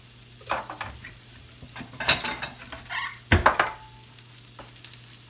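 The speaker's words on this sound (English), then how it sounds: "I'm cutting a little butter up here for my actual bread here" A knife cuts butter for sandwich bread in a kitchen, with scattered clinks and scrapes of metal on a dish and a couple of louder knocks, close and uneven.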